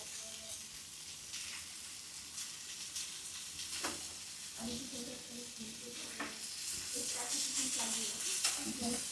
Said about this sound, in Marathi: मस्त टेम्पटिंग वाटतं ना. फुल किरकिरी आवाज.